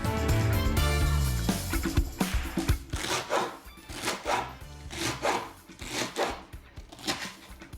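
A knife cuts a leek in half lengthwise on a cutting board, giving a series of close, crisp taps and scrapes at an uneven rhythm, louder at the start and then in short separate strokes.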